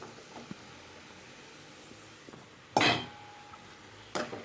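Chopped brinjal going into a pan for a chutney, heard as a few sharp metallic clatters and scrapes against a quiet kitchen background.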